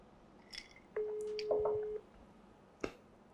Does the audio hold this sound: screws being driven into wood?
no